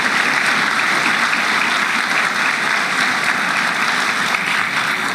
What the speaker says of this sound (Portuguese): eu quero pedir uma salva de palmas aos profissionais da segurança pública do Brasil